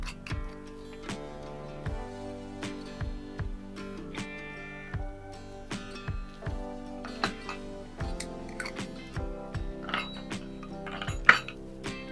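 A spoon mixes milk and baking soda in a bowl, making light, irregular clinks and taps against the dish over soft, steady background tones.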